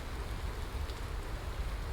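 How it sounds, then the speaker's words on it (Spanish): Steady rainfall hisses evenly, a soft continuous patter with no voices or other sounds. "con este player que tenemos sonido de lluvia"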